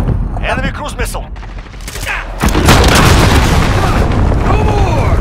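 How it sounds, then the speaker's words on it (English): A heavy cruise missile blast booms in Call of Duty: Modern Warfare multiplayer. It follows scattered gunfire and lands as a loud, sustained explosion roar, with shouted voices throughout. "Enemy cruise missile!"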